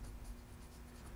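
Pencil scratching on paper in a steady, quiet stroke that runs without pause for about a second.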